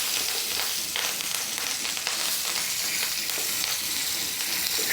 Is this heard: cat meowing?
no